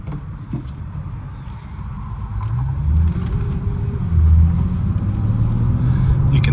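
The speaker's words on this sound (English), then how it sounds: "we're going to go for a quick spin around the block so you can see that the car drives as it" A 2016 Bentley GTC Speed cruises around the block, its engine rumbling low and steady inside the cabin and building gently as it accelerates, with no voices.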